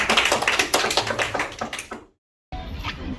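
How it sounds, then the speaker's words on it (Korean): A small group claps after a card magic trick, a quick run of sharp, fairly loud hand claps that stops abruptly, followed by a brief silence and then a low murmur of room noise. "여러분 박수 부탁드립니다"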